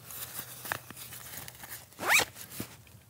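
A zipper pocket on a bushcraft backpack is pulled open in a few short rasping strokes, the longest and loudest near the end, close and clear with no talk.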